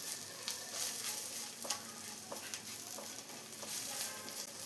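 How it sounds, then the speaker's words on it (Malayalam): Chilli powder and Kashmiri chilli powder heating in a pan on a low flame for a Kerala-style soya fry roast, giving a steady close hiss of sizzling oil with a few soft stirring scrapes and no voices. "ഇനി ഇതെല്ലാം കൂടെ ഒന്ന് ചൂടാക്കിയെടുക്കാം. സിമ്മിൽ വെച്ചിട്ടൊന്ന് ചൂടാക്കിയെടുത്താൽ മതിയാവും."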